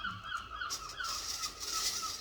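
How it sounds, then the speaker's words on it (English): Seagulls call near a beach in Wales, a series of thin, repeated cries at moderate distance over a soft, constant outdoor background. "And here the seagulls."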